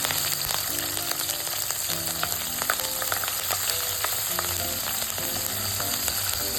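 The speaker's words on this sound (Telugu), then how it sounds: "వీటన్నింటినీ ఆయిల్లో మంచిగా ఫ్రై చేసుకోవాలి." Curry leaves and chopped green chillies fry in hot oil with a steady, dense sizzle, broken by occasional crackles and light stirring scrapes throughout, with no one speaking.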